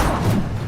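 Incendio fire spell cast in the Hogwarts Legacy game amid combat, a brief, loud, dull whoosh with a thudding low burst, under a second long.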